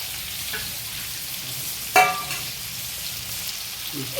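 Cumin seeds frying in a pan give a steady, soft sizzle throughout, broken by one sharp clink near the middle, with no talking.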